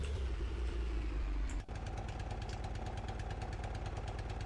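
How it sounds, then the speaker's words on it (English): A tank engine over-revving in the video game Sprocket, on a Japanese-style early-war tank with transmission damage: a loud, continuous, high-revving mechanical drone with a brief dip partway through before it resumes at full intensity. "Engine's over-revving like crazy there."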